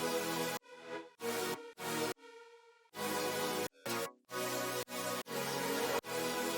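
Layered Serum synth chords, plucks and lead line playing together in loud, choppy bursts with abrupt gated stops and short gaps, one quieter sustained chord passage in the middle.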